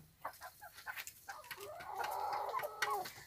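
Hens in a crowded coop cluck and squawk at close range, with short repeated calls building into a louder, agitated chorus while they peck at another hen.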